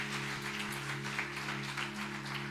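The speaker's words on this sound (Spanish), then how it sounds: "Denle ese aplauso al Señor bien fuerte." A church congregation claps for the Lord beneath a steady droning organ or keyboard chord, the applause soft and diffuse, blending into the sustained music rather than standing out.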